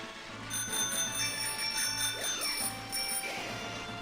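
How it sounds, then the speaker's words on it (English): Several bright bicycle-style bells ring repeatedly in quick, overlapping trills during a Pokémon shiny-hunting livestream, sustained metallic tones layered over a low game-music background, with no talking. "I'll ring all the bells"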